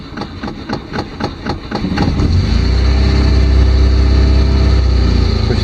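A 1967 Volvo 1800S with the choke pulled out cranks over in rapid rhythmic churns for about two seconds, then catches and settles into a loud, steady close-up idle.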